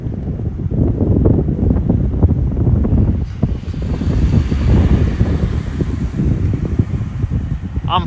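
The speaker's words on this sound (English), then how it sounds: "The wind is coming this way." Strong storm wind outdoors in California, blasting and buffeting the microphone in a steady, loud, low roar with gusty surges and no voices.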